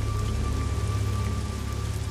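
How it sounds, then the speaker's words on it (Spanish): Heavy rain pouring down on a dark, winding road, a loud, dense, steady patter and hiss with a low rumbling undertone, close and continuous with no voices. "Recorre el lugar bajo la lluvia, por un camino tortuoso."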